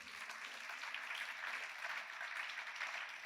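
A crowd applauds steadily for a few seconds at a Christian sermon, a dense even patter of many hands, somewhat distant and without talking.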